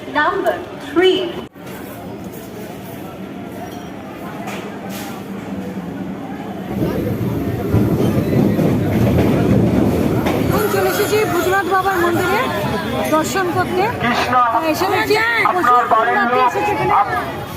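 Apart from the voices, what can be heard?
crowded railway station with train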